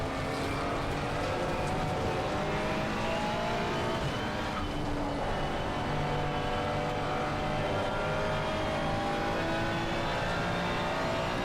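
A Porsche 992 race car engine in a racing video game drones loudly and continuously, its pitch sweeping up and down through gear changes on a Barcelona circuit, with no speech.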